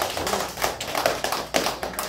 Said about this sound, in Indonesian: Kita tepuk tangan dulu dong untuk Bimex.